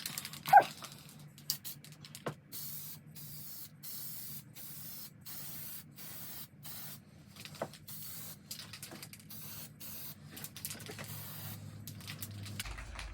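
Aerosol spray can misting paint onto car bodywork: a steady hissing spray in regular bursts separated by short pauses, close and fairly loud, with no talking.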